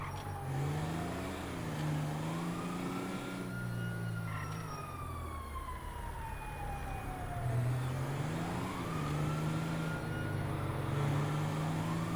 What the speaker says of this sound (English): I just keep hearing the sirens going on.